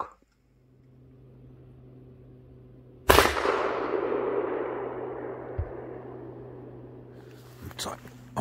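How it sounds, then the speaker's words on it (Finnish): Single loud shotgun blast fired at a pigeon during a pigeon hunt, a sharp crack after a quiet start, followed by a long decaying echo over steady low hum, with faint clatter near the end. "Nyt sai ammuttua ensimmäisen kyyhkyn tuosta"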